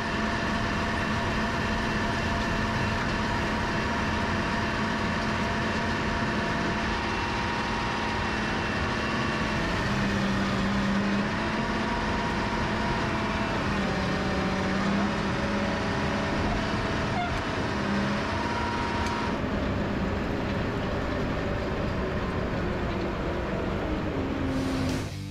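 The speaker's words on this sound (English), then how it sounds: "the operator will put full power to the front two tires while dragging a heavy cut" A motor grader under full power drags a heavy cut while testing its front tires, giving a loud, steady engine roar with a constant drone and slight shifts in pitch, continuous throughout with no talking.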